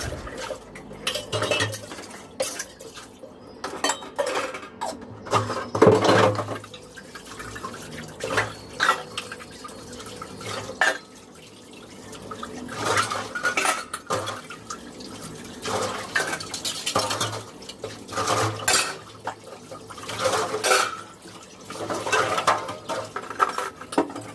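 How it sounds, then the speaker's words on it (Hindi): Dishes and cutlery being washed at a kitchen sink under running water, with repeated clatters and clinks of pots and utensils over a steady wash of flowing water, close by and without talk. "फिर इसके बाद में धुलने लगी हूँ फटाफट से बर्तन।"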